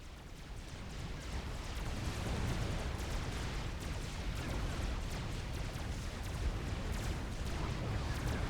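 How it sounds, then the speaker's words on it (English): Medusa artillery shells bursting in the strategy game Supreme Commander, a dense, continuous rumble of overlapping explosions with no clear gaps, steady and loud throughout. "Bricks exchanging fire at the southern pass. Medusas lobbing shells in."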